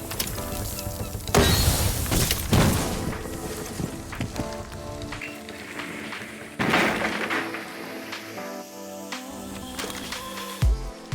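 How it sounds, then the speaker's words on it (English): Selma breaching charge detonating against a wall in a video game, giving loud sharp blasts with crackling debris, several bursts spread through a busy game soundscape. "the next thing you'll want to do is throw your Selma charge against the wall"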